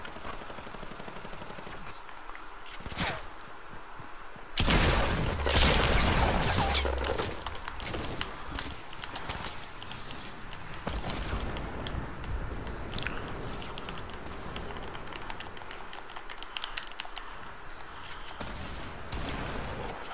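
Rapid bursts of automatic gunfire and single shots in a Faze video game, loud and dense throughout, with heavy sustained firing after the first few seconds and a faint voice at times.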